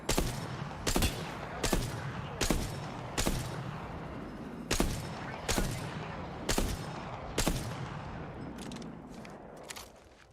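Bursts of gunfire ring out in a shooter video game, about a dozen sharp volleys spaced roughly a second apart and fading toward the end, with faint game voice lines in between.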